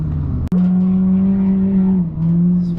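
A drift car at Thunderhill race track holds a loud, sustained engine drone at steady pitch after a sharp gear-change burst, dipping slightly near the end.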